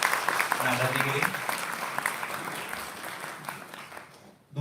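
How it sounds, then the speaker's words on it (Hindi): Audience applause at a young adult student presentation event, a steady burst of clapping that gradually thins out over a few seconds, with a voice heard faintly beneath it. "एक बार जोरदार तालियां इस दर्शन के लिए"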